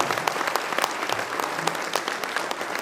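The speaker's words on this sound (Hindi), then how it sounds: "इनके सम्मान में अब तक की सबसे झंझनाटेदार तालियां बजा दीजिए" Brisk, vigorous clapping from a gathered audience at a company seminar, many hands hitting in quick overlapping bursts, fairly loud and close, with no talking over it.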